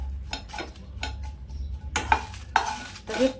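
Green chillies stirred and dry-roasted in a pan for a traditional sambar masala: a steady low hiss with a run of sharp scraping clinks from the spoon against the pan, growing louder toward the end.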